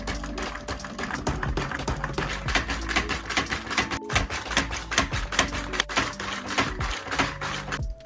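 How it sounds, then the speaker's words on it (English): A homemade robotic actuator toggles rapidly between two positions, giving a dense run of sharp mechanical clicks and taps with a steady hum beneath, close and continuous throughout. "You can see how fast this would be in a robotic application when setting the actuator to toggle between two"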